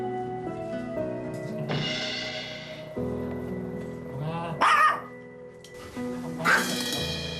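A family dog barks aggressively indoors beside a bedridden owner, letting out several loud, sharp barks and yips in bursts, with whimpering and tense sounds between them, close to the listener.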